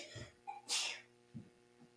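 A single sharp sneeze bursts out, preceded by a quick intake of breath, with soft breathing and faint murmuring around it.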